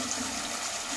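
Water poured in a steady, close gush into a cooking pan holding pointed gourd (parwal) pieces for a vegetarian malaikari, a brief continuous splash with no talking.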